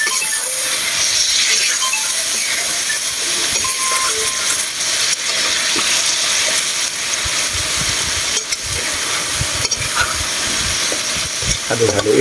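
Tokwa't baboy, fried tofu and pork with salted black beans, sizzles loudly in a pan while a utensil stirs and scrapes against the metal with repeated clinks, close and continuous.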